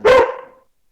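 One loud, close bark from a dog indoors, short and sharp with a brief fading tail.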